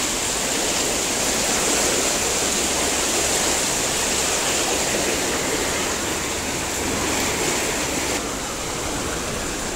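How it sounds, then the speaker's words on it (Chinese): Yellow River water rushes through an intake channel to turn a large water wheel at a riverside water-wheel park in Lanzhou, a loud, continuous close-up roar of flowing water with no pauses. "黄河水啊，从这里引进来，"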